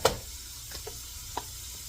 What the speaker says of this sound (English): You hear that sizzle? That means the pan's good and hot.